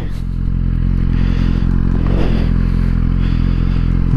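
A 2021 Suzuki GSX-R1000R sportbike at speed on the road, its engine a loud continuous drone with steady wind rush and road noise, no voices over it.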